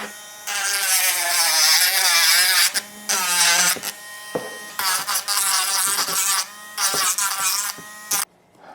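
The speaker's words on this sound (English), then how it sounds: "I'm going to smooth this out now with my Dremel" A Dremel rotary tool smooths cast zombie teeth with a high, buzzing whine rich in overtones. It runs in sustained bursts broken by brief stops and restarts, close and fairly loud.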